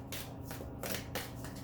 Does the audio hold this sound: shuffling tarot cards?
yes